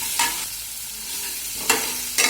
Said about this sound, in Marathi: तुम्ही छान असं भाजून घ्यायचं 4 ते 5 मिनिटं.